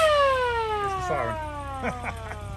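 A replica WW2 Jeep's siren wailing, sliding steadily downward in pitch, loud and near, with a few short bursts of other noise mixed in.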